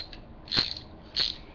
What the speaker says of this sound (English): let me take the wheels off too. Where's my socket wrench?